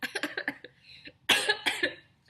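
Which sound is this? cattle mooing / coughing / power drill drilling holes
coughing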